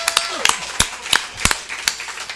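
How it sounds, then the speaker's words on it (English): A small studio audience at a sports talk show gives scattered, sparse claps, about a dozen distinct sharp hand claps spread irregularly, mixed with people talking. "How about a round of applause"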